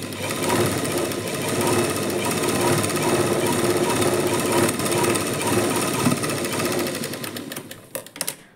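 A sewing machine stitches a lined blouse, attaching the lining to the main fabric with a loud, fast, continuous needle clatter that runs on before stopping near the end.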